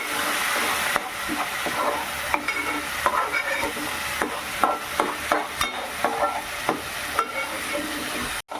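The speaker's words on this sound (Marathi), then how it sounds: "आपल्याला कांद्याची पेस्ट टाकायची कांदा आता ढवलून घ्यायचं" Onion paste frying in a pan after ginger-garlic paste, for masala bhendi, a close steady sizzle broken by regular scraping stirs, ending with a brief sharp knock.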